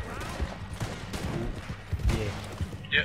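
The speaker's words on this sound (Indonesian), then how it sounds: "ada nih, ada tembakan." Scattered gunshots crack in Red Dead Redemption 2 during a multiplayer session, several irregular shots at middling distance mixed with game noise while players talk.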